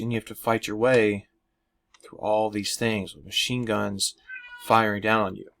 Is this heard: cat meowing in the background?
yes